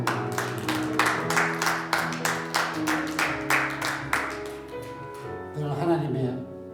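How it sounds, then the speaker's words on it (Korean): A church congregation claps together during a Sunday worship service, a dense run of rhythmic clapping over several seconds that blends with music and fades toward the end. "하나님께 영광의 박수."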